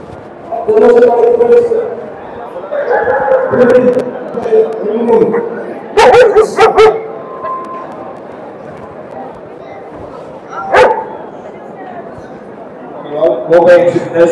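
Dogs at a kennel club dog show at a palace grounds in Visakhapatnam give a few sharp, scattered barks and yips amid steady nearby human talk.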